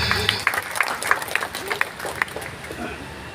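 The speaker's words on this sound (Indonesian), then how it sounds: "Tepuk tangan bakal panitia" Scattered, uneven clapping from a small gathering at a Maulid Nabi celebration, honouring the organizing committee, with sharp individual claps standing out over background murmur and voices.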